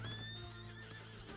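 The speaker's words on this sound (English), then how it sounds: "why is my horse stuck here?" A horse in the Red Dead Online video game gives a loud, close neigh, a wavering high whinny over a low rumble and faint hoof clopping.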